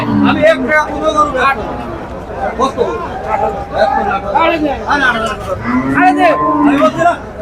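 Cattle moo repeatedly at a busy cow market, several long lowing calls close by over a constant babble of crowd chatter and voices.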